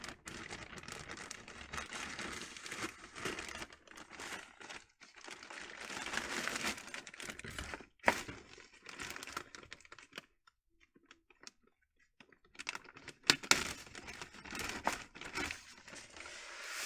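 A double plastic bag of Lynch Mining Vulture gold paydirt is opened and emptied: crisp crinkling and rustling bursts close by, broken by brief quiet gaps and a few sharper rattles, with no talking.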